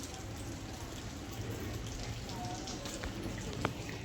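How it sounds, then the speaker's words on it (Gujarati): Rain falls in a steady, soft hiss with scattered drips, heard from nearby at a low level and sounding fairly even throughout. "વરસાદ ચાલુ હો."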